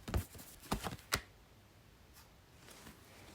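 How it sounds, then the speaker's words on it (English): Oracle cards get shuffled just out of view in a few quick, close riffling bursts, then a quieter rustle, with no talking. "I'm shuffling behind the camera"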